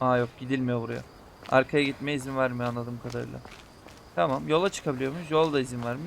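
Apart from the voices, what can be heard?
No distinct noise like a dog, phone or traffic.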